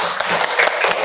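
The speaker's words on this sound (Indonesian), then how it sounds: "tepuk tangan untuk Nuryani" A classroom group of students claps for a classmate in a short, close burst of applause lasting about a second.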